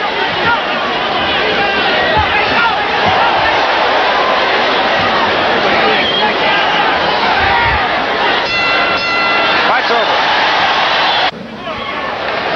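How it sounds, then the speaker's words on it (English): A loud, continuous roar from the arena crowd at a professional boxing match between Sugar Ray Leonard and Marcos Geraldo, with babble and cheering filling the whole stretch and a brief dip near the end. "There's the shuffle, the crowd roars"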